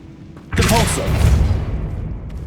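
A Depulso spell blast in Hogwarts Legacy bursts out suddenly as a loud, close whoosh-and-boom, then rumbles and fades over a couple of seconds beneath low game ambience.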